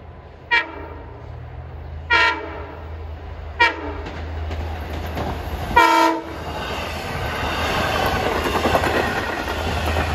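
A Long Island Rail Road commuter train runs through, sounding four loud horn blasts in sequence, near and strong, then a rising rumble and clatter of wheels on rail as it passes.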